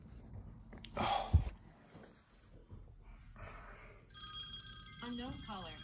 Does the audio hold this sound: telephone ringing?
yes